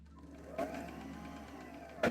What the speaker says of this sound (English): Oh, you're not even seeing the bobbin winding.